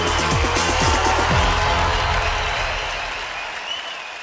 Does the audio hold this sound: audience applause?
yes